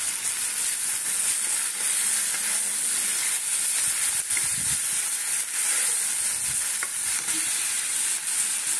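A spice masala with turmeric sautés in a pan for a kabuli chickpea dish, with a continuous close sizzle and hiss, occasional stirring scrapes and no voices.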